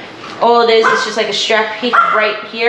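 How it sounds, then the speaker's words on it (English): Puppies yip and bark in the background while a person talks steadily over them, the barks partly buried under the voice. "Sorry about the puppies barking in the background"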